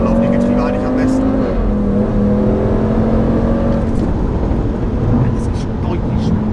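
An Audi RS3 with a turbocharged five-cylinder engine pulls hard and shifts up, a loud, steady, close engine drone whose pitch climbs, drops briefly at a gearchange and climbs again, with road and cabin noise and talk over it.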